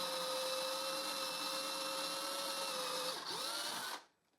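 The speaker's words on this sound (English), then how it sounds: "I drill the center of the circle I want to cut off my workpiece" A power drill whines at a steady pitch, dips as it bites into a wooden workpiece, then stops abruptly, leaving near silence.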